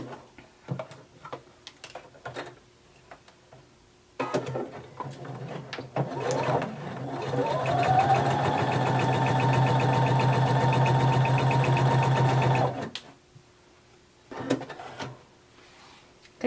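A sewing machine runs a long continuous seam down the side of a romper, a steady mechanical whirring hum for several seconds, near and even, framed by soft handling clicks and fabric shuffling before and after.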